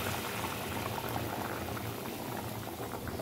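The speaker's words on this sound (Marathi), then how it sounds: "हे गरम पाणी टाकणार" Hot water goes into a pan of simmering chicken gravy, giving a steady, close, even bubbling and hissing wash that runs unbroken throughout with no talking.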